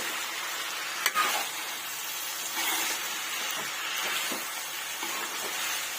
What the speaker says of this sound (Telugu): ఆయిల్లో బాగా ఫ్రై అవ్వాలి.